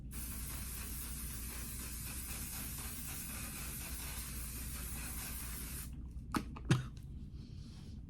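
A makeup setting spray hisses in a long, steady spray lasting several seconds, followed by a couple of short, sharp spritzes, with no speech.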